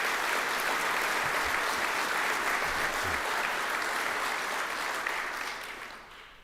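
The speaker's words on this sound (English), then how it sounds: "Let's give Mike, the staff, and the volunteers a round of applause." An audience applauds at a chairman's address to an aviation association convention, with dense sustained clapping from a large crowd that fades out at the end.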